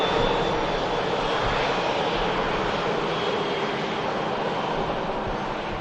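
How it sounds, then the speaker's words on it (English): EasyJet Airbus A320 with sharklets taxiing toward Terminal 1 at Manchester Airport on a windy day, a steady broadband engine roar and whine heard from a distance, continuous throughout with wind noise mixed in. "Getting the aircraft taxied into Terminal 1."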